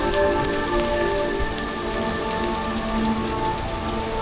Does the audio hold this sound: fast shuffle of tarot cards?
no